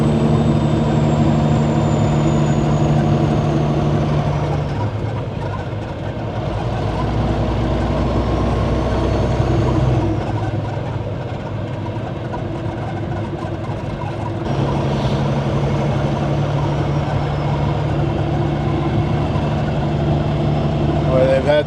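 Semi truck engine climbing a steep mountain grade, a loud, steady diesel drone with deep rumbling harmonics and shifting pitch as gears change, heard from inside the cab with talk over it.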